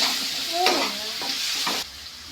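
Spices crackle and sizzle in a pan during tempering (oggarane) in a home kitchen, close and fairly loud, with a few sharp bursts and stirring scrapes before the sizzle drops to a quieter hiss.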